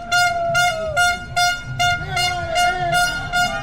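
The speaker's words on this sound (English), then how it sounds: "This air horn." An air horn blasts repeatedly at a campaign event, a series of loud, sharp honks in an uneven rhythm with brief gaps, some notes bending in pitch, with crowd noise underneath.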